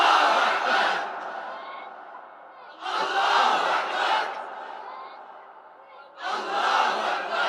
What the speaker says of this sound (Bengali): দাও, নারায়ে তাকবীর দাও।